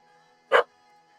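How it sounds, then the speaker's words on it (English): A dog gives one short, sharp bark, close and alone against a quiet electronic hum. "I don't know what you barked at."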